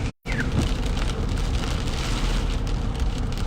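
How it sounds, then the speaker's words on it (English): Heavy rain during a severe thunderstorm in Ankeny, a loud dense roar drumming steadily on a surface after a brief moment of silence at the start. "Oh yeah, here comes the rain."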